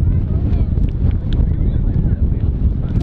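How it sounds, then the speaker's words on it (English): Wind buffeting a microphone outdoors at a game, a loud low rumbling roar throughout with faint voices underneath. "It's getting windy a little bit."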